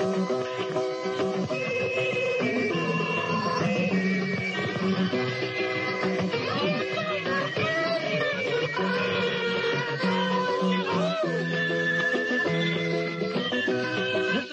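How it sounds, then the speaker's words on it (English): A vinyl record spins too fast at 78 RPM, so the recorded music plays sped up and high-pitched. It runs steadily and densely for the whole stretch, with no talking over it. "Running at 78 RPM, ladies and gentlemen, you can imagine just how long it took to get up to the singing little bit running at that speed."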